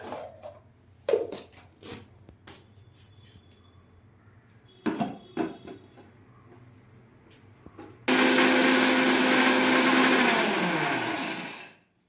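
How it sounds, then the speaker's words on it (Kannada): A mixer grinder grinds cooled, roasted chutney powder ingredients in a mixie jar. A few light clatters and knocks come first, then the motor starts with a loud, steady whirring roar that runs for several seconds before winding down. "ಇವಾಗ ಮಿಕ್ಸಿ ಜಾರ್ಗೆ ಹಾಕ್ಕೊಂಡು ಪುಡಿ ಮಾಡ್ಕೊಳ್ಳೋಣ"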